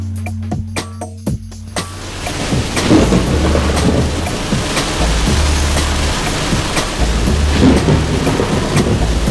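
Heavy rain during Uganda's rainy season pours steadily, close and loud, with a deep rumble of thunder rolling underneath and sharp drips and knocks scattered across the downpour.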